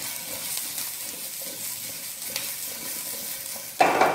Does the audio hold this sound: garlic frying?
yes